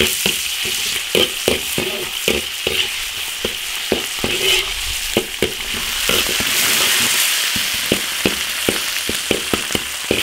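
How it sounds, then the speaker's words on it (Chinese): Ginger, chili paste and hotpot base sizzle in hot oil in a wok, with a steady frying hiss broken by frequent close scraping stirs of a spatula. "烧油炒调料，生姜调香，辣椒酱火锅底料来一点"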